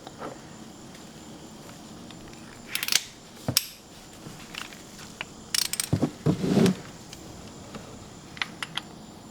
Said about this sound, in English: let's take that off with our 24mm socket